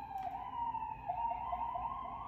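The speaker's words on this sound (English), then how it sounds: "it's just a siren I'm waiting" A siren wails at a distance, holding a steady high tone that wavers slightly as it rises and falls, continuous throughout with no talk over it.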